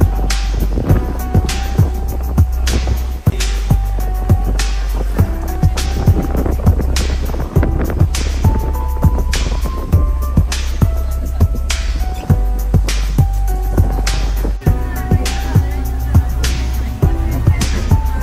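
An island-hopping speedboat picking up speed on the open sea off Langkawi: a loud, steady engine drone and rushing wind buffeting the microphone, with rhythmic thumps as the hull slaps the waves.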